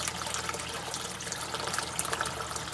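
Water drains hard out of a grow bed through an external siphon at full flow, a steady close-up gush and gurgle with bright splashy detail that holds level without a break.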